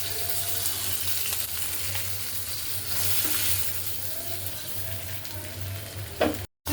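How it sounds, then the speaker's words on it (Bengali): Greens are tempered in hot mustard oil in a home kitchen, a steady loud sizzle and frying crackle running throughout with soft stirring, cut off abruptly near the end. "সরিষার তেল শাকটা বাগা দিব, তো আমি সরিষার তেল দিয়ে বাগা দিই।"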